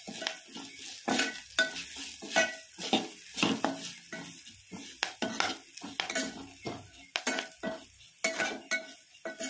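Curry leaves crackle in hot oil for a potato curry while a spoon stirs, giving rapid scraping and clinking strokes in an uneven rhythm over a light sizzle, close and fairly quiet.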